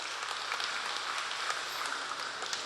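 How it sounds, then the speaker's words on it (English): Audience applause at a provincial disaster risk reduction ceremony for the blessing of rescue vehicles, a steady wash of many hands clapping at moderate distance, continuous with no voices over it. "A big round of applause"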